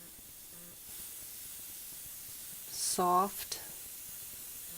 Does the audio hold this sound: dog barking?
no